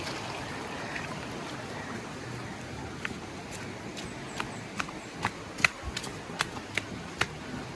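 A river, swollen overnight and running brown, makes a steady broad rushing wash, with scattered sharp clicks and taps rising over the flow toward the end.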